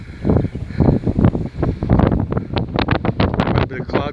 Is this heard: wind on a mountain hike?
yes